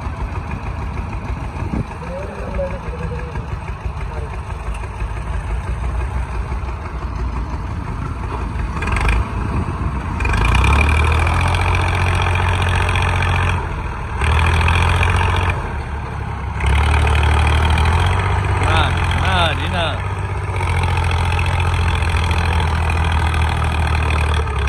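Tractor engine running while hauling a fully loaded trolley up a river embankment, a steady low rumble that surges louder in stretches, with people talking over it.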